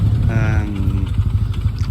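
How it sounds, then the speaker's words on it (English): A cheap scrambler motorcycle with a small engine of roughly 100cc, seen in Japan, idles with a steady low chugging, a brief rising rev-like tone early on, loud and close. "So this is a scrambler, very, very cheap indeed."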